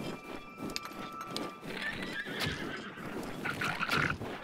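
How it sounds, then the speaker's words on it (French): Horses whinny and clip-clop in The Legend of Zelda: Breath of the Wild, with several neighs and hoofbeats over wind-like outdoor ambience, moderately near. "Ah, les chevaux."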